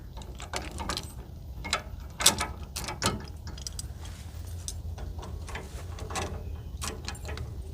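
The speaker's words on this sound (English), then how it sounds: "And then the locks just lock that in place." Locks on a lawn trailer rack click into place, giving a series of sharp mechanical clicks and ratcheting snaps, fairly close, over a quiet background with no talk.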